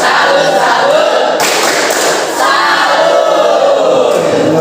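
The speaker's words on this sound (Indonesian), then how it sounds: "Coba kita mulai sekarang. Tepuk salut." A group at an Indonesian school teaching-practice session performs a 'tepuk salut' clapping salute: loud, dense clapping with shouted group voices, continuous through the whole stretch.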